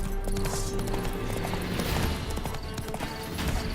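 Horse hooves clip-clop at a steady, rhythmic pace in The Witcher 3, loud and continuous over dense game ambience, with no talking.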